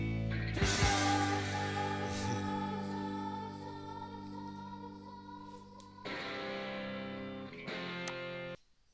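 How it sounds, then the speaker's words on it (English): A heavy echo effect from a song sounds out: a loud distorted rock burst that rings on in decaying repeats, then a second swell near the end, with no talk. "Nice echo there"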